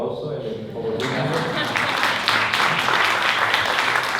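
A crowd breaks into steady, sustained applause that swells after a moment of quieter murmuring and continues throughout.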